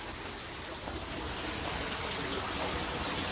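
Water pumped through a pipe pours steadily into an aquaponics grow bed, a continuous broadband rush and trickle that holds even and fairly close throughout, with no voices.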